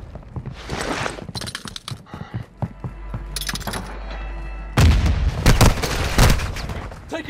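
Warzone 2 battle royale gunfire crackles in sharp bursts and scattered shots, some loud and close, others more distant, with a heavy boom-like surge midway and a brief voice underneath.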